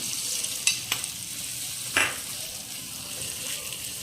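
Tempering for a raw banana chutney sizzles in a pan and is stirred, a steady close fizz broken by two or three scraping stirs, with no voices.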